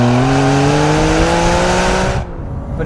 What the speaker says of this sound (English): Driving a big V12, heel and toe in the downshifts, changing up yourself, it's mega.